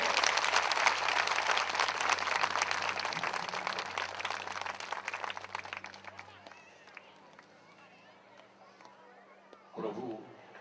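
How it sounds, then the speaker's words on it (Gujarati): Loud applause from an audience at a Vishwakarma katha religious gathering, dense clapping that fades after about six seconds into quieter crowd noise, with a brief burst near the end. "જોરદાર તાળીઓથી વધાવશો."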